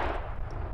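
An RPG-7 rocket launcher firing, one heavy booming blast whose rumble and roar fill the whole short moment, loud and dense at the low end.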